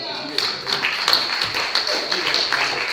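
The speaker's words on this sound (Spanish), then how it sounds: "Dale un aplauso." A church congregation applauds during a bilingual service, dense clapping spread across the room with voices mixed in, steady for the whole stretch.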